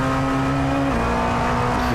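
Onboard at Monza, a Grizzly Motorsports race car's engine holds a loud, steady high-revving drone, its pitch dropping slightly as it shifts midway, close and unbroken throughout.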